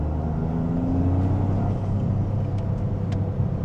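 A Toyota GR Corolla on the move, its engine droning low and steady beneath constant road rumble heard from inside the cabin, with a few faint clicks near the end and no talking.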